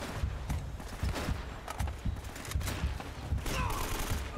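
Rapid gunfire in Uncharted: Drake's Fortune, a dense run of repeated sharp shots in bursts, fairly close and loud over a busy game background.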